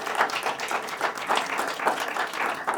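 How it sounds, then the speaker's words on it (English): Applause from an audience at a community networking event, a steady wash of clapping with rhythmic swells, moderately loud and without speech. "Round of applause for them, please"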